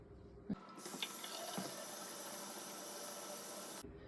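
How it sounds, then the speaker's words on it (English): Hands are washed under a running tap in a sink, with a steady, fairly quiet stream of water and a few soft rubbing knocks near the start. "Step one of preparing to cook is washing your hands."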